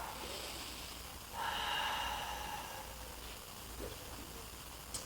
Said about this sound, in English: Breathe into the back.